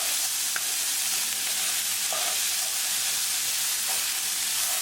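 Corn masala frying in a pan over medium heat, with a steady close sizzle and a few brief scraping stirs of the spoon against the pan.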